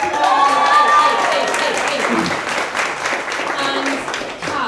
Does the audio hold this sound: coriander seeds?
no